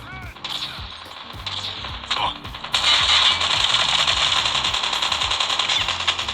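Rapid bursts of video game gunfire played on a Samsung Galaxy A51 phone, sparse at first and then a dense, sustained rattle of shots that keeps going to the end.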